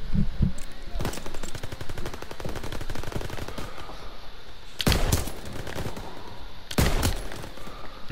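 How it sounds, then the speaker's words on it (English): A light machine gun in Call of Duty WWII fires long, rapid automatic bursts, loud and close, with a couple of sharper explosive hits cutting through the continuous rattle of battle. "This LMG is not gonna let me, like, put it down for anything good."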